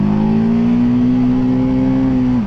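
A TVS Apache RTR 310 motorcycle engine drones at steady high revs, then dips sharply at the end as the quick shifter changes gear without the clutch.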